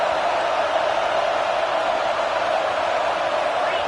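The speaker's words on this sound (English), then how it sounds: "This crowd is trying to inspire this defense to make a big red zone stop." A football stadium crowd roars to spur on the defense before a red zone stop, a dense, steady wall of cheering noise that holds without a break.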